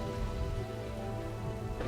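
Rain falls steadily in the medieval town-building game Kingdoms and Castles, a dense, even patter that stays constant and fairly close for the whole short stretch, with no voices.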